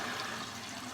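Hot water running steadily from a tap in a bathroom sink, a soft, even broadband rush that continues without a break for the whole second.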